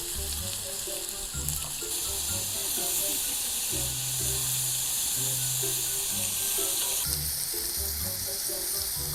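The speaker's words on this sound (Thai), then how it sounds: "ตัดเป็นชิ้นนะ ก็ย่างให้สุกนะครับ" Pieces of meat grill over heat at a campsite, giving a loud steady sizzle and hiss that runs without a break, with a low tonal background hum underneath.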